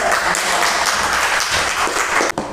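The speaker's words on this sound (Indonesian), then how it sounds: "beri tepuk tangan untuk Mas Nanda" Audience applause in a classroom or seminar setting, continuous close clapping from a group at fairly loud level, ending abruptly with a brief break near the end.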